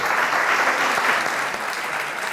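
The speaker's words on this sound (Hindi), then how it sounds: "तालियां।" Studio audience on a Pakistani television talk show claps loudly and continuously, a dense wash of applause that holds steady and fades slightly toward the end.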